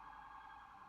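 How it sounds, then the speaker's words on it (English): A siren from an emergency vehicle outside, holding a steady, wavering tone that runs through the whole brief moment, fairly faint and distant with no talking over it. "Sorry for the siren, guys,"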